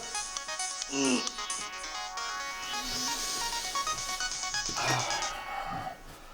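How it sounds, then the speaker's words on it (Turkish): A phone's melodic birthday alarm tune plays steadily over a busy musical background, with a brief snort-like noise near the start. "benim telefonun melodisi mi değişti ya?"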